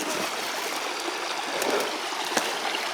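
A small rock-lined creek washes over a hand-built cascade near an off-grid cabin, a steady broadband rush with light trickling and splashes, close and continuous with no talk.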